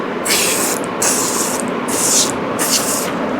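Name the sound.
spraying foam cleaner from can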